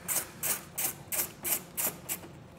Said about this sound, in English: That's gonna be three T15 Torx screws that are holding this on.